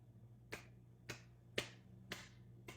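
Finger snaps from an audience at poetry auditions: five crisp, evenly spaced snaps at close range, with a low steady hum beneath and no talking.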